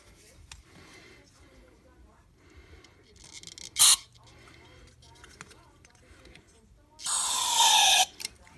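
Carburetor and air intake cleaner is sprayed from an aerosol can onto a Yamaha DT250/DT400 carburetor in two hissing bursts, a short one followed later by a longer, louder one, between quiet stretches with a faint voice.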